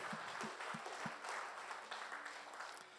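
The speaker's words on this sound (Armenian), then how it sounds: "եկեք ծափարենք Տիրոջ։" A church congregation applauds in praise of the Lord, a steady wash of clapping hands from a crowd heard at a moderate distance, with a few sharper individual claps near the start.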